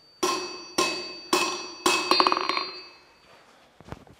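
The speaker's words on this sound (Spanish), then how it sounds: "Porque cuando está martillando el gordo y el pequeño no podemos charlar." Hammers strike hot steel being forged into hand shears for shearing sheep in a century-old smithy. Four heavy ringing blows come at a steady pace, then a burst of quicker lighter taps, then a few scattered knocks.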